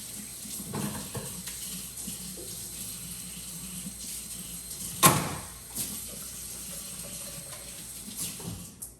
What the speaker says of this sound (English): make sure you wash all of your utensils in between